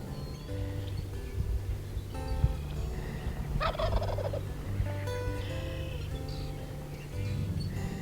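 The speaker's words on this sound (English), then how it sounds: "Here's a gobbler." A wild turkey gobbler gobbles outdoors at a Colorado state park, a rattling call heard clearly at moderate distance over quiet ambient background.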